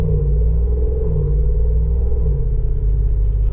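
A Jeep pulls away in second gear with sport mode engaged. Its engine gives a loud, steady, low rumble with a slight rise in pitch, close by and alone.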